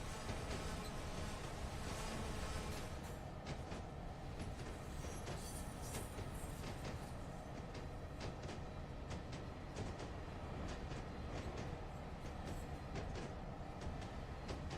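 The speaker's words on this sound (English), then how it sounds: "Oh, that train's moving now." A train rolls along in a railroad simulator game set in the Feather River Canyon, giving a steady, dense rumble with rhythmic clicking and rattling of wheels on track throughout, fairly quiet and without talk.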